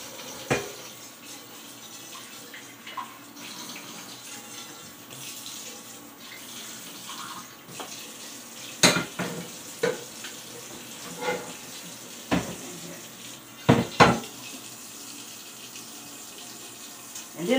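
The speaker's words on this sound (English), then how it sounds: "Okay, let me get started on these dishes" Tap water runs steadily into a kitchen sink while dishes are washed, with scattered clinks and clatters of dishware rising above the constant hiss of the flow, close and moderate in level.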